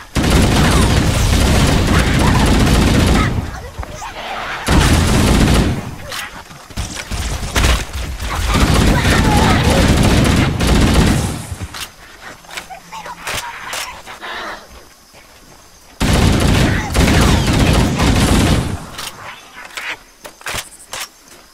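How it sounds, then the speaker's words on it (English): Gunfire in the Halo: Combat Evolved video game roars in loud, dense bursts, with long stretches of shooting broken by brief quiet gaps. "That was gunfire."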